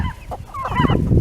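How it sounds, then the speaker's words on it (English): Chickens on a farm cluck in short, close bursts, a brief series of soft throaty calls with faint background noise. "I love my chickens"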